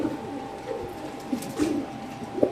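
A male racing pigeon coos softly at close range, a few low murmuring coos in short phrases against quiet background noise.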